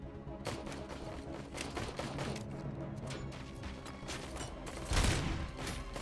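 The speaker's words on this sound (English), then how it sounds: "the shooting mechanics, the shooting dynamics, they're really, really good" Dense gunfire fills a firefight in the Robocop Rogue City shooter game, with rapid overlapping shots and impacts running throughout and a heavier blast near the end.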